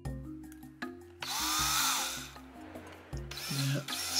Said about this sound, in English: I'm going to have to come in with a smaller drill there.